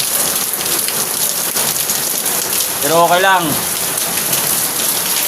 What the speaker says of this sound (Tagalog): So, lakas ng ulan guys.